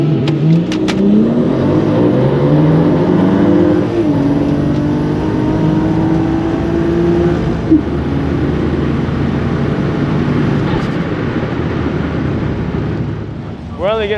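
Ford Territory AWD family SUV with a Barra engine swap accelerating hard at a track, its loud engine note climbing and roaring through the gears, then fading slightly toward the end as people talk nearby.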